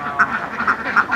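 Ducks on a farm of about 315 birds quack in a quick, uneven series of five or six loud, nasal calls close at hand.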